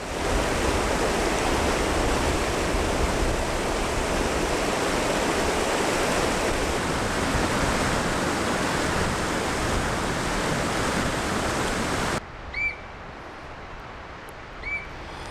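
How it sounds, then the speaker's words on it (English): A glacier-fed mountain creek dropping toward a swampy forest rushes loudly and continuously in the foreground, then cuts away to a much quieter outdoor scene with faint bird calls. "the creek drops down and flows through a swampy forest"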